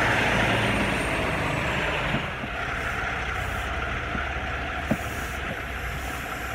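A truck backs into a Dollar General lot from the road, its engine a steady rumble heard from some distance with a couple of brief knocks, and no talking.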